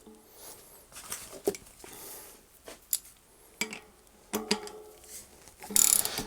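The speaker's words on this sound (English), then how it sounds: "you're going to really want to crank this thing down" A ratchet with a 10mm socket tightens a Shimano Deore FH-M525 freehub body into a bicycle hub shell, giving close, irregular bursts of metallic clicking and clanking with short pauses between strokes.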